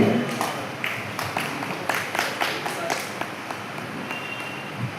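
Audience clapping at a poets' gathering and book presentation, a modest ragged burst of applause from a nearby crowd that tapers off over a few seconds.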